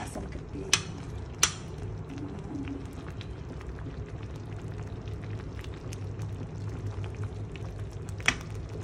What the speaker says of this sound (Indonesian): Masak bagi kuah dia pekat sikit.